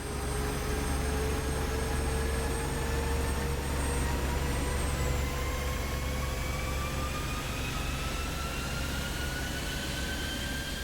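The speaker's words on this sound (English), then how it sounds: "now you can hear the jet firing up" Simulated F-16 Viper jet engine spooling up in a flight simulator: steady broadband roar with several rising turbine whines climbing in pitch, constant and loud, no voices.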